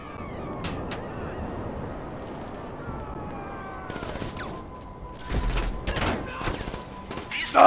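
Gunfire breaks out in a GTA 5 Online heist: scattered shots and short bursts over steady traffic-like rumble and a faint siren tone, growing louder and denser toward the end.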